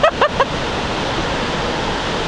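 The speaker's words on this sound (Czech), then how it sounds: "Nějaká voda padá." Marokopa Falls, a 30-metre waterfall on New Zealand's west coast after rain, roars as a steady broadband rush, briefly overlapped at the start by a few short voice-like calls before continuing alone.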